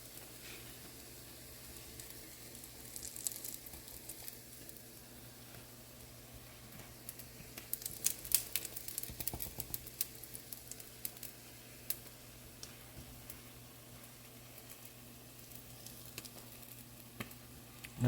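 Leftover potato salad shaped into fritters sizzles steadily in a frying pan, a constant close crackle with a few louder spitting pops midway.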